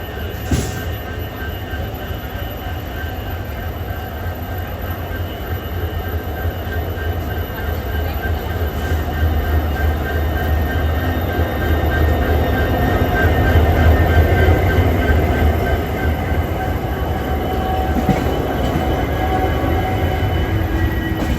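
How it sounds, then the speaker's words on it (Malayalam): A WDG4 diesel locomotive hauls a goods train through hilly country, a loud, steady rumble of engine and rolling wagons with faint wheel squeal that holds for the full twenty seconds. "എന്താ എടുപ്പല്ലേ ഈ ലോക്കോമോട്ടീവിന്, WDG4-ന്"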